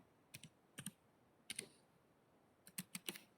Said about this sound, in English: all I'm doing is typing in these new data pieces